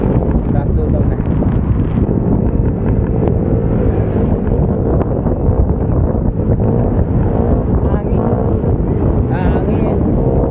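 Strong wind buffeting the microphone during a mountain ride, a loud, constant roaring rush with no letup, with voices faintly present underneath.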